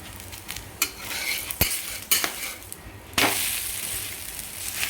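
Dahi dhapate flatbread made with bottle gourd and spinach fries in oil on a pan, giving a soft steady sizzle marked by several sharp utensil clicks and scrapes.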